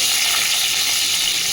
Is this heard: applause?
no